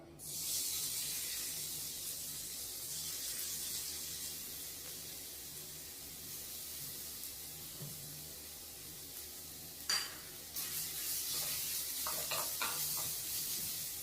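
Grated potato dropped into hot ghee sizzles with a steady, close hiss throughout, with a few brief stirring clatters near the end; no one talks.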